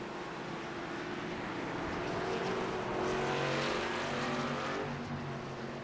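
Race cars in iRacing on the Indianapolis road course drone with a continuous engine roar that swells and fades slightly as they pass, with no talk over it.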